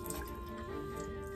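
Water runs and drips into a sink while makeup brushes are scrubbed clean, a steady close trickle with small splashes throughout and no talking.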